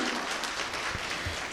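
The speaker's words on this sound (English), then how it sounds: "can we have a big round of applause for our moderator?" Audience clapping for a panel moderator at a hospitality conference panel on hotels for millennials, a steady dense wash of applause from a crowd, moderately loud and continuous with no speech.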